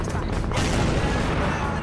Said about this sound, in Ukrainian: Стрельне у вражин зі справжньої піратської середньовічної гармати